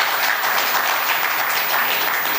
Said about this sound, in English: So one more clap.